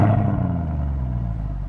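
A powerful Mercedes Black Series V8 engine starts, then rumbles loudly and steadily at a low idle, with a slightly brighter burst right at the start.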